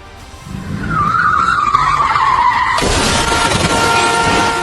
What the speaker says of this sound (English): The driver loses control as the car skids across the wet road.